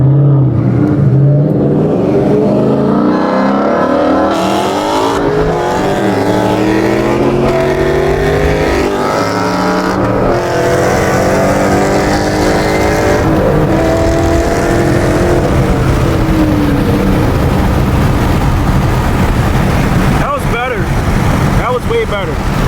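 Ford Mustangs, one with high-flow cats and one a tuned S197, launch from a dig and race, engines roaring loudly and climbing in pitch through gear changes, with steady wind and road rumble around them.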